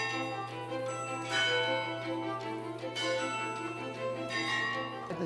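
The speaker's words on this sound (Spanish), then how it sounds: "4 veces al día toca el himno nacional" Eleven large clock bells in Lima, Peru's biggest clock, ring out the Peruvian national anthem as a steady, sustained tolling melody with layered ringing overtones and a continuous low hum, no voices present.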